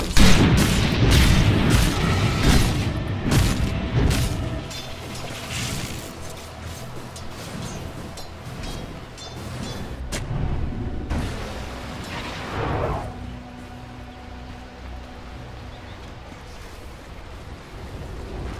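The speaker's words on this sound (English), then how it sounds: "Radiant's middle tower is under attack." Booming explosions from a Dota 2 match as Radiant's middle tower comes under attack, loudest in the first few seconds with dense rumbling impacts, then easing into quieter crackling combat and scattered blasts.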